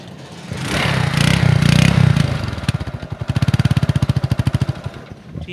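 A used motorcycle for sale kick-starts on the first try, a rough clattering burst settling into a close, loud, steady idle with a clear rapid thump.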